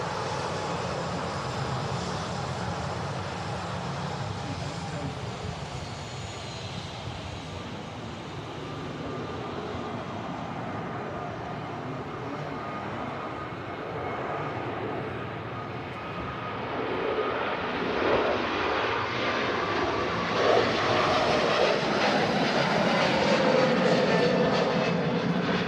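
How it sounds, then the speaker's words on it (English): Air Transat Airbus A321neo jet rolling for takeoff on runway 23R at Manchester Airport, a steady distant engine roar that gradually builds louder and rougher toward the end, with no talking. "There's the Air Transat A321 Neo heading back to Toronto, now rolling on 23 right"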